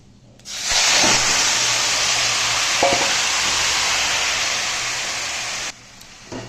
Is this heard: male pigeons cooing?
no